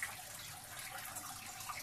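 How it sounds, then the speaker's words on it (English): Water cascades and trickles over hanging Spanish moss, a faint, continuous splashing hiss with small drips, heard alone. "can you see how the water is cascading? It's traveling like waterfalls."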